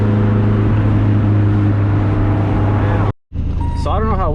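Straight-piped 2G Eclipse GSX roars loudly while driving at night, a dense, steady exhaust drone that cuts out abruptly for a moment before returning with a rising rev.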